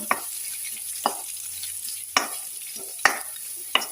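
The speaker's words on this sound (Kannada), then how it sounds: "ಈರುಳ್ಳಿ ಒಂದು ಸ್ವಲ್ಪ ಫ್ರೈ ಮಾಡಬೇಕು" Chopped onion and two green chillies fry in a pan for an Andhra-style fenugreek-leaf curry, giving a steady sizzle broken by four or five sharp spatula clacks against the pan, close and alone.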